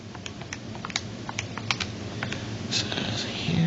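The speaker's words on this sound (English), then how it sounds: "let's go ahead and type this into our calculator" Quick plastic key taps on a calculator as numbers are entered, a run of a dozen or so light clicks at an uneven pace over steady room noise, with no talking.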